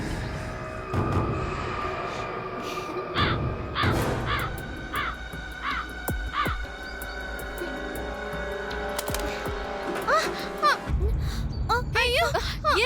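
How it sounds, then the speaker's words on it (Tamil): A crow caws repeatedly in a domestic scene from a Tamil TV serial, loud harsh calls recurring through the scene alongside talking voices and a background music bed. "சாப்பாடு எடுக்காம காக்கா நம்மளையே பார்த்துட்டு இருக்கு."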